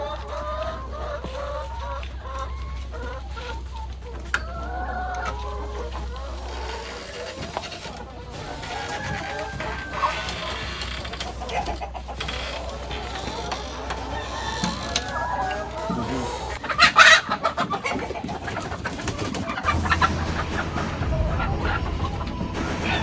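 Chickens cluck and crow across the scene, with a steady low hum underneath and a few scattered knocks; no one speaks.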